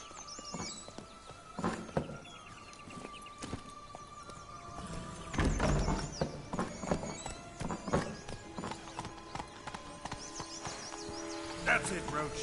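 Galloping horse named Roach in a video game, a busy mix of hoof clip-clops, snorts and a whinny with game sounds and music, while someone talks throughout.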